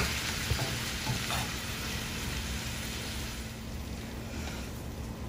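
Chicken pieces for sweet and sour chicken frying in a pan, a steady loud hissing sizzle throughout with a few faint scrapes of stirring, no voices.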